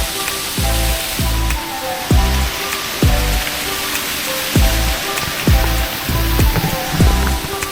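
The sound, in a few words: rain sounds in rainforest area of Shenzhen theme park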